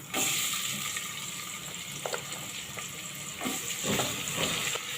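Two large lengthwise-sliced onions fry with whole spices in the oil of a pressure cooker for a matar soya pulav, giving a moderate, steady sizzle with a few scraping stirs partway through.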